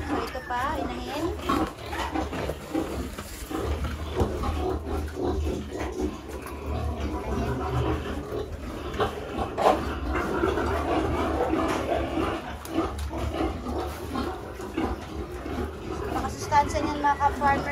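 Free-range pigs, including a sow, grunt and snort repeatedly at close range amid a busy, noisy farmyard, with someone talking over the animals throughout.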